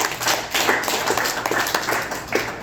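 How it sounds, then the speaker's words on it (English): Audience at a comedy show clapping in a short, thin burst of scattered hand claps, fairly close and without voices. "give a round of applause for yourselves for being out here tonight"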